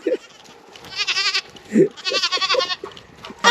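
Goats bleat loudly nearby, several wavering cries in quick succession, separated by brief pauses.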